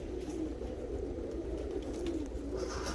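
Tippler pigeons coo in a loft, a low continuous murmur of soft overlapping coos from several birds close by with no talking.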